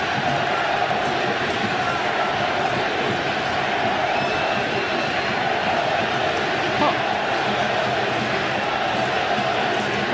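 A loud, sustained crowd roar fills the Oakland Coliseum during a 2023 baseball game, a dense wall of cheering and chanting that holds steady from start to end.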